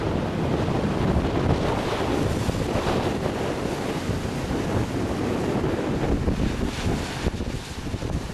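Waves slap and churn on a windy lake in Queenstown, with constant wind buffeting the microphone and a broad, steady roar of choppy water throughout.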